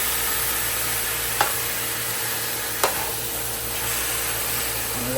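Ingredients for brown stew chicken sizzling in a pot: a steady, close hiss of frying fat, with a couple of sharp clinks from a utensil against the pot.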